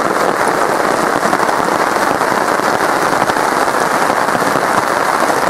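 Steady rain falls outdoors on a wet backpacking trip, a dense, even patter of drops that stays loud throughout with no voices.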